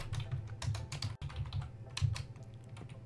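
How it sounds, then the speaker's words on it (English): Rapid, uneven keystrokes on a computer keyboard, close and fairly loud, clicking in bursts with brief pauses, during a Minecraft Beta 1.2 session, no talking. "I can't really like see my keyboard because of my mic, so that's why it's so awkward typing"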